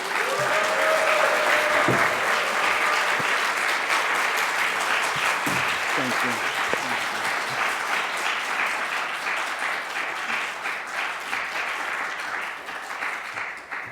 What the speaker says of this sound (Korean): 두 분 올라오실 때 큰 박수로 환영해 주시면 감사하겠습니다